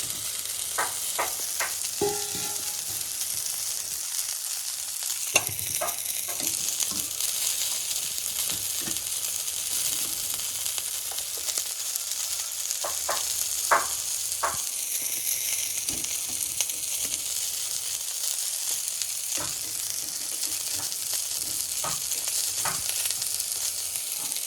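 Fish sizzling and frying in hot oil in a village kitchen, a steady crackling hiss punctuated by sharp pops and occasional stirring clatters, close and continuous with no voices.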